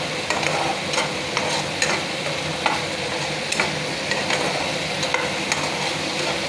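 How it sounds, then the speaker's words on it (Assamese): Climbing perch frying with skunkvine leaves and turmeric in a pan, a steady loud sizzle with repeated stirring scrapes and clicks of the utensil against the pan at irregular intervals. "অকণমান ভালকৈ ভাজি ল'ব আৰু।"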